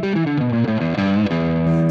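Electric guitar through an Archer overdrive pedal into a Tone King Royalist MK3 amp, dry with no reverb, playing a loud, sustained run of overdriven chords and notes that ring on continuously, with no talking.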